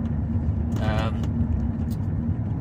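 Steady low rumble inside a moving Mazda6 that has had throttle body and fuel filter repairs, with continuous engine and road drone and a brief brighter noise partway through.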